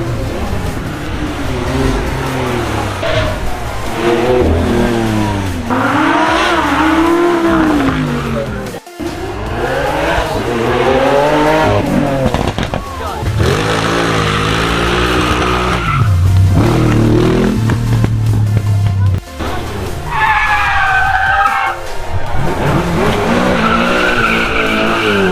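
Supercars warming up for a hill climb at a motoring weekend, engines revving hard in rising and falling sweeps with tyres skidding and squealing, loud and close, one brief cut to silence midway.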